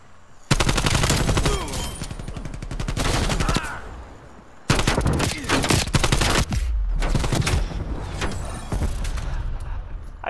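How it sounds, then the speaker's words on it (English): Gunfire in the video game Call of Duty: Black Ops Cold War comes in long, rapid automatic bursts, loud and close, broken by short pauses and scattered single shots. "I got shot at from another guy."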